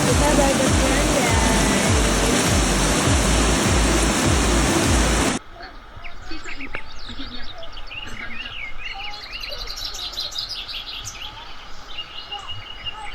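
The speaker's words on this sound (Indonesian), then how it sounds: "Bangun tidur disambut gemuruh air sungai menjadi terapi tersendiri" A clear river roars loudly beside a glamping site for about five seconds, then gives way to a quieter outdoor scene filled with chirping birdsong over a soft wash of distant water.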